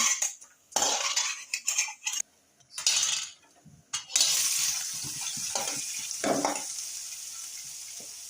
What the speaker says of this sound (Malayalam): ഇഞ്ചി മൂക്കി ഇട്ടിട്ടുണ്ട് നമ്മളൊരു പാത്രത്തിലേക്ക് മാറ്റിയെടുക്കുവാണ്